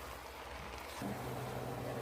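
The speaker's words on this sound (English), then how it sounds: "I had to put my exhaust fan on." A kitchen exhaust fan switches on partway through, adding a steady broadband whoosh with a low hum over the quiet room sound while sweet onion jam is being made; no one speaks.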